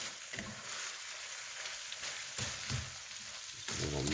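Thai basil eggplant stir-fry sizzling and frying in a pan while being stirred, a steady hiss with a few louder scraping surges from the mixing, close and continuous, no talking.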